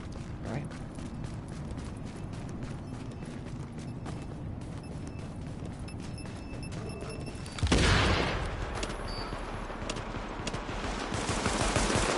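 Rapid automatic gunfire rattles in The Division video game, a dense run of shots broken by a loud, sudden explosion about two-thirds through, followed by a rumbling aftermath and continued firing.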